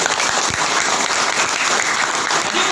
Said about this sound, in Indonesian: Aplaus untuk Eco Racing.